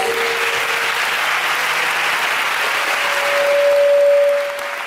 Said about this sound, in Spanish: simplemente un fuerte aplauso